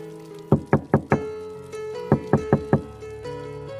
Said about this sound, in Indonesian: Tiba-tiba, pintu diketuk dari luar dengan keras.